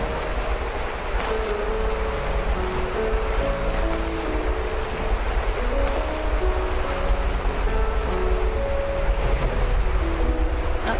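In the video game The First Tree, a waterfall makes a loud, steady rush of churning water that lasts throughout, layered with a gentle melodic musical score and no talking.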